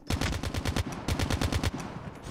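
The Manowar rifle in Call of Duty Mobile, during a Hardpoint match, fires two loud, close bursts of rapid automatic shots, separated by a brief pause and heard alone.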